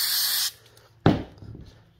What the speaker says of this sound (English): Just spray this on.